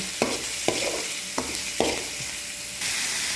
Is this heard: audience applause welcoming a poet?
no